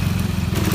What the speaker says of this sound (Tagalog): Kahit ayaw mong idaan yung motor mo dito, mapipilitan ka pa rin.